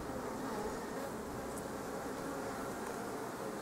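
Honeybees buzzing at a beehive, a dense, continuous drone from many insects close by, fairly faint and steady, with no talking.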